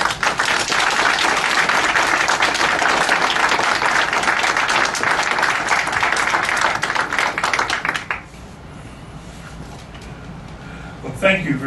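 An audience in a bookstore reading room claps steadily and loudly for author Samuel R. Delany, a dense applause that runs for about eight seconds before fading into quieter room noise.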